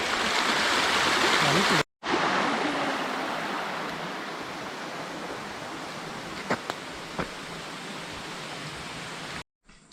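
Siddheshwar waterfall on the Sagargad trek pours as a steady, loud broadband rush of falling water close by, running unbroken through the clip apart from two brief dropouts.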